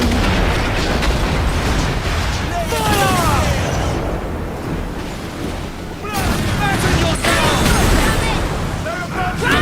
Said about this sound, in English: Let's hit her with the swivels!